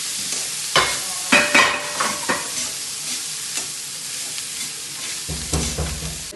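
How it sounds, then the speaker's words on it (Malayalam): Medium chopped onions sautéing in a pan, a steady soft sizzle broken by several sharp spatula scrapes and stirring clatters, close by. "ഉള്ളി മീഡിയം സൈസ് ഉള്ളി മുറിച്ച് വെച്ചതാണ്. ഇത് നല്ലോണം വാട്ടിട്ട്"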